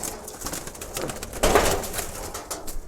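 Young pigeons in a loft coo softly at close range, with a steady low murmur and a slightly louder burst midway. There is no speech.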